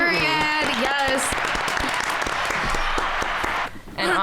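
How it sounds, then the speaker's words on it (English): Audience applause for a told story fills the room, steady and loud from start to finish, with a brief dip near the end and some voices mixed in at the start. "Let's just give a round of applause for that story"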